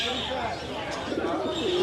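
A pigeon coos softly and rhythmically in the background while a voice narrates over it.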